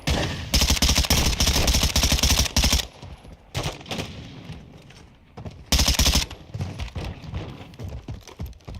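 Bursts of rapid automatic gunfire in the video game DMZ, loud and close, with long sustained volleys broken by pauses and scattered shorter shots.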